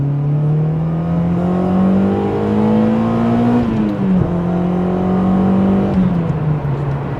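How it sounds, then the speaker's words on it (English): A Honda Accord Euro R with its H22 VTEC engine accelerates hard, a loud close rising engine note that climbs steadily, drops briefly at a gear change and then pulls again. "can you hear the VTEC, that's for sure"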